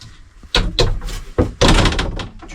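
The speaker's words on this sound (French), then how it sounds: "En fait, tu fermes la porte ici." A shower cubicle door is pushed shut with a couple of loud, close thuds and rattles, followed by a firmer bang as it closes, with no talk over it.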